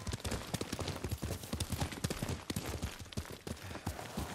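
Horse hooves gallop in the video game Ghost of Tsushima, a quick, rhythmic run of loud clip-clop beats over a dense game soundscape, steady throughout.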